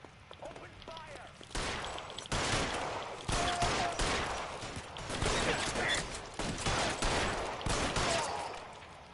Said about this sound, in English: Guys aren't gonna go quiet. Open fire!